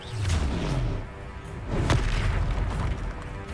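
Confringo blasting spell cast in Hogwarts Legacy, a fiery magical burst with a deep booming impact, two heavy blasts in quick succession over rumbling combat noise, loud and close.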